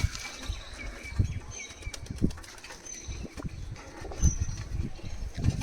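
Oman teddy pigeons beat their wings close by in repeated flapping bursts over a few seconds, with faint chirps in the background and no talking.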